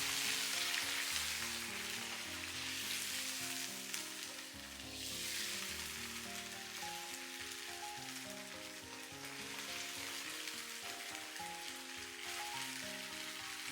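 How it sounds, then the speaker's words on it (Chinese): Green beans stir-frying in lightly heated oil in a wok, giving a loud, steady sizzle and crackle throughout with occasional stirring, and a melodic tone running underneath. "油微熱就把豆角全部放進去， 稍微翻炒一下"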